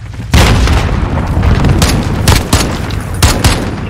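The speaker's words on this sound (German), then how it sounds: "Werfe Granate!" Grenade explosion in Call of Duty Modern Warfare multiplayer: a loud, close boom kicks off a dense, sustained roar of battle, with further sharp blasts and gunfire cracks punctuating it.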